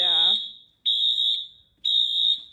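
Three piercing fire alarm beeps ring out in an even rhythm in a UC Berkeley Unit 3 dorm, loud and close, with a brief voice overlapping the first one.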